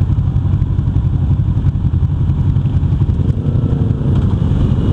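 A motorcycle engine runs steadily and close by, a low rumbling drone with faint rattling on top, continuous for the whole stretch.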